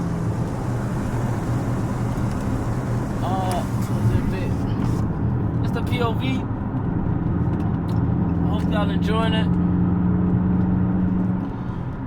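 A car's engine hums steadily from inside the cabin on a driving run with the windows partly rolled up, wind noise mixing in. Someone talks over it throughout, and the engine note swells briefly as it picks up speed.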